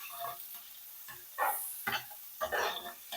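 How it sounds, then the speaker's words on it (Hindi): Sliced onions dropped into hot cooking oil crackle and sizzle, broken by several scraping spoon strokes as they are spread around the pan, close and fairly quiet. "अब मैं गर्म ऑयल में शामिल करूंगी स्लाइस किया हुआ प्याज और चम्मच चला के प्याज को अच्छी तरह से हर तरफ फैला दूंगी।"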